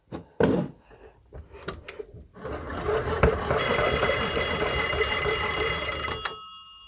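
An antique crank telephone's bell rings loudly and continuously for about three seconds during a test, a steady metallic jangle preceded by a few knocks and handling sounds, then stops abruptly.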